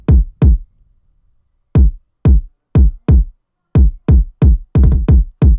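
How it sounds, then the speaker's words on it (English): Hex kick drum pattern from a hyperpop beat: loud, punchy low thumps with quick decay, spaced irregularly, then a faster cluster near the end, dry and close with no voices. "First kick pattern sounds like this."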